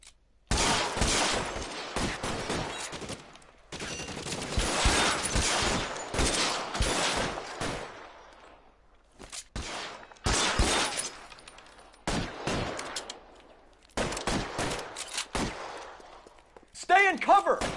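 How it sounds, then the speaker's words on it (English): Rapid bursts of gunfire crackle through a shootout in the L.A. Noire case at Nicholson Electroplating, loud and close, arriving in dense volleys separated by brief pauses, with people talking over parts of it. "This is the most shooting we've actually had in any cases"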